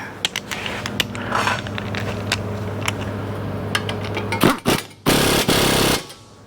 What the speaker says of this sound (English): Let's get that tightened up. 14 millimeter.